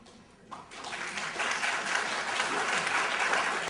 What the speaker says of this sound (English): Again, it gets a strong round of applause.